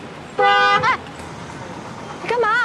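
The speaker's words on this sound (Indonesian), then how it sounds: "Jialiang membuat keributan dengan membunyikan klakson mobilnya." A car horn blares in two loud, close honks, the first held for about half a second and the second shorter after a pause, with background noise between.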